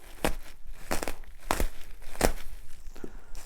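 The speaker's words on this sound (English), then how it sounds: "Take the knife again, just do a quick cut on it." A knife slicing open the plastic wrap around compressed cushion foam for an R-Pod 179 camper dinette, heard as a few sharp crinkling tears and rustles spaced across a few seconds, close and fairly quiet.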